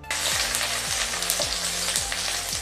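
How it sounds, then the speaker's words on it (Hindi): Finely chopped ginger and garlic hit hot oil in a kadai on high flame, giving a continuous bright sizzle at moderate level, with no voices. "अब इसमें हम ऐड करेंगे बारीक कटा हुआ अदरक और लहसुन और इसे हमें हाई फ्लेम पर कुक करना है।"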